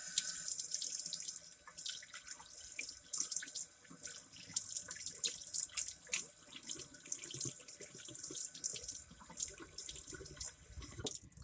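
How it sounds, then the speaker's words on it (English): Cold tap water runs into a kitchen sink, rinsing chicken livers in a container, a steady close splashing stream that shifts and spatters as the livers are moved under it. "I'm gonna rinse it with cold water."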